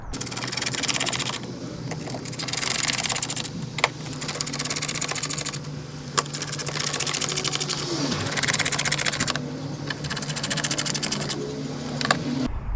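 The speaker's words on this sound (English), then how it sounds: "So now we can just put the screws back in." Screws are driven back into the front body panel of a 2008 Smart car, giving repeated whirring bursts of a power driver with short gaps and faint clicks in between.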